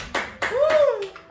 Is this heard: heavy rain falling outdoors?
no